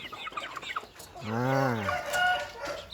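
A rooster crows loudly in one long, drawn-out call, with scattered hen clucks before and after it.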